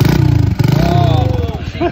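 A small engine with a choke chugs and pulses close up in a rough, uneven rhythm as it struggles to catch, while someone talks over it.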